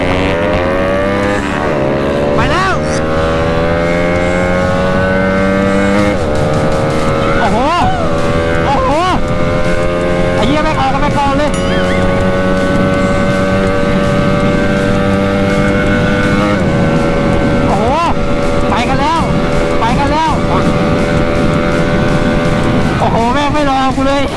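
A car engine revving loudly as it pulls away on a test drive, rising and falling tones with gear changes over about twenty-four seconds, close and constant with people talking over it.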